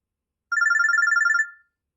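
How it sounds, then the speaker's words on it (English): A phone rings in the video game Robotics;Notes DaSH. A single burst of rapid, trilling electronic ringing starts after a short silence, rings steadily for about a second, then fades out cleanly. "Yashio-kun's phone droid starts ringing."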